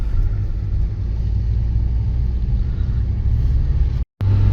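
Saab 93 with a 1.9 TDI diesel engine driving on the road, with a steady low interior rumble of engine and tyres that drops out briefly near the end before resuming.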